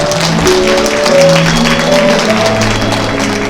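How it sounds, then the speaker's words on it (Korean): Wedding guests at a ceremony in a convention hall break into brief, moderately loud applause, mixed with music and room noise. "큰 박수 부탁드리겠습니다"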